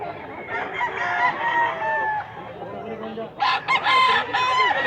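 Several roosters crow among clucking chickens, overlapping drawn-out calls at close range with a fresh loud crow bursting in near the end.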